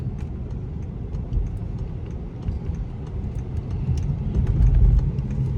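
A BMW M550i drives on the road, its low engine and tire rumble steady and close throughout, swelling slightly near the end with light ticking above.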